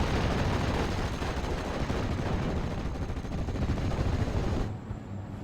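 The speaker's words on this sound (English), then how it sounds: "Panzer Grenadier shows his hand by firing the MGs, and a lot of fire is coming onto that Panzer Grenadier unit" Sustained dense gunfire from machine guns in a World War II tactical game, Panzer Grenadier units firing MGs, a loud continuous rattle of shots that drops off near the end.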